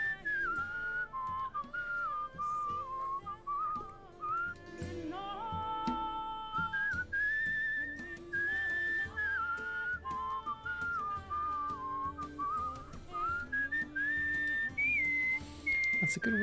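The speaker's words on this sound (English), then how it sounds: "let's whistle a little" A character in Where the Water Tastes Like Wine whistles a clear, wandering melody, one note gliding into the next over a soft musical backing with brief gaps between phrases.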